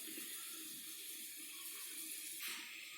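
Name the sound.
water boiling vigorously on the stove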